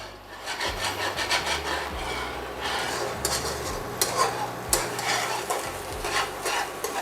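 Eggs being scrambled hard in a pan, a busy, continuous scraping and rubbing of a spatula against the pan over a soft sizzle, close and fairly loud.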